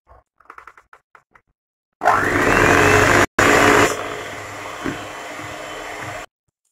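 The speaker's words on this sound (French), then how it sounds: "On va mélanger nos ingrédients." An electric mixer whirs into chocolate-vanilla cake batter after a few soft clicks, running loud and steady for several seconds with a brief cut-out, then easing to a lower hum before stopping.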